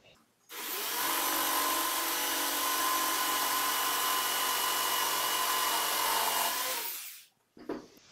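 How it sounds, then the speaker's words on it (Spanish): An electric jigsaw makes a perpendicular cut through an MDF strip, a loud, steady buzzing whine that starts abruptly, runs for about seven seconds and stops, followed by a brief clatter. "Ya hicimos nuestro primer corte, que fue un corte perpendicular a un listón de MDF"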